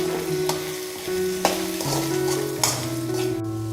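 Eggs fry with garam masala and salt in a pan, giving a steady close sizzle broken by a few sharp clinks and scrapes of a spoon stirring the mixture.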